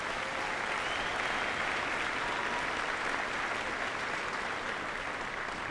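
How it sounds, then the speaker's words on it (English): Sustained applause from a large crowd at a high school graduation ceremony, an even, continuous roar of clapping that stays level and somewhat distant throughout. "Let's give them another round of applause"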